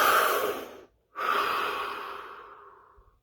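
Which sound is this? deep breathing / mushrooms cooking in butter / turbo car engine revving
deep breathing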